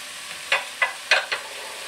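Carrots and sweet potato being stirred in a pan with a soft background sizzle, four short scraping strokes close by at an uneven pace, with no talking.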